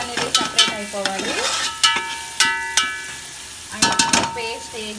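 Spice paste with turmeric for a seer fish curry sizzles in hot oil in a pan while a spoon scrapes and stirs it, giving close, intermittent clinks over a steady frying hiss.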